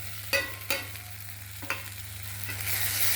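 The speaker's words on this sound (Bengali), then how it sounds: "একটু নাড়াচাড়া করে নিয়ে জল দেবো" Powdered spices including Kashmiri chilli, garam masala and chicken masala are stirred as they fry in a pan for a brinjal and egg curry in a village kitchen, with a few distinct scraping strokes over a low, steady sizzle.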